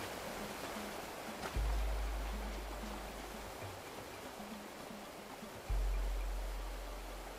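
A waterfall in the survival building game Tribe: Primitive Builder gives a constant rushing hiss of falling water, faint and steady, with two sudden low rumbling swells that fade out gradually; no one speaks.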